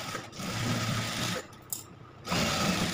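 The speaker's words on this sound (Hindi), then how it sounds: "तो अब हम इसके कंधे जोड़ रहे हैं।" A sewing machine stitches the shoulder seams of an Anarkali suit, close rapid mechanical chatter that runs, pauses briefly near the middle, then resumes, with no talk.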